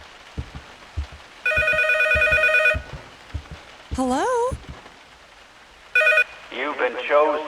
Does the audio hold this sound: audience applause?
no